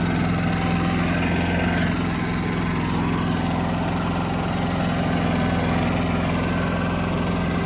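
A generator runs steadily while charging a food truck's 1200XP power station, giving a loud, continuous engine drone with no breaks and no talk.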